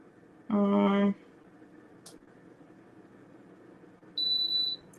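An oven used for sublimating a mason jar and tumbler gives two electronic beeps: a loud, lower-pitched buzz lasting about half a second, then a few seconds later a higher, clear tone of similar length, over quiet room noise.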